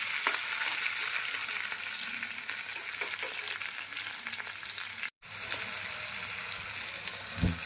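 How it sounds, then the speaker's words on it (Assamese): Potatoes, tomatoes and onions frying in a pan give a steady, dense sizzle throughout, with a brief gap and a light stirring knock near the end. "পিঁয়াজো ভাজ হৈ যাব, বিলাহী ভাজ হৈ যাব, আৰু মোৰ আলু ফ্ৰাই হৈ যাব"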